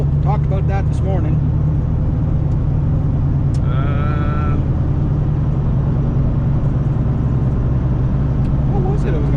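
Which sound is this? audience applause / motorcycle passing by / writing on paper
motorcycle passing by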